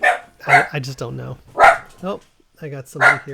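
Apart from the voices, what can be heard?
dog barking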